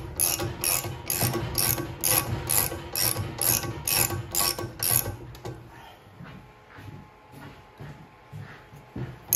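A cheap Harbor Freight puller ratchets as it draws the impeller off a Billy Goat leaf vacuum, a close run of sharp rhythmic clicks that then gives way to softer, slower mechanical knocks.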